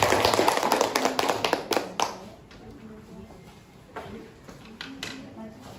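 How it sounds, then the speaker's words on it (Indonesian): Applause for a student group in a classroom presentation session: a burst of dense, fairly close clapping for about two seconds, then it thins to scattered claps and taps while voices talk. "Tepuk tangan dulu untuk kelompok 2."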